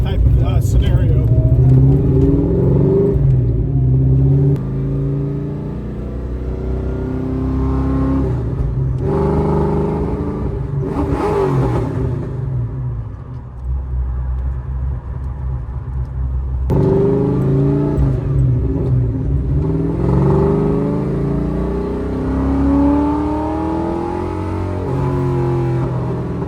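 A Ford 351 Windsor V8 revs during engine break-in, its loud, deep rumble rising and falling through sustained revs. Someone talks over the engine for much of the clip.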